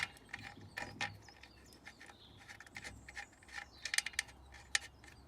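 A ratchet clicks in quick uneven bursts as the oil sump drain plug is wound back into a Peugeot 205 with the 1.1 TU engine, the metallic pawl ticks close and fairly faint, with no talk.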